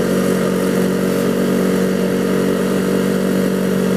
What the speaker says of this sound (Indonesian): motor-motor yang mesinnya udah dimodifikasi